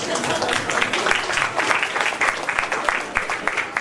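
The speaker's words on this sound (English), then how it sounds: "I think that deserves a round of applause" Audience applause at a book launch for Anusha Subramanian's book 'Never Gone', a dense, steady burst of many hands clapping that fills the whole stretch at close range.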